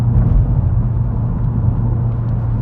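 A lowered SEAT Leon Cupra Mk2 driven hard, heard as a loud, close, steady low engine and road drone with constant rumble from inside the car, no voices.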